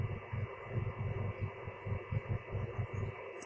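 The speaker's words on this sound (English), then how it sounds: "There's a really, really light sort of humming, whining sound it's not distracting, it's not a nuisance, but it is there." A Noctua NH-D15 CPU cooler's fan motor gives off a faint, steady low hum with a light whine, alone and unchanging throughout.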